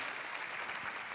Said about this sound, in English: That definitely deserves an applause.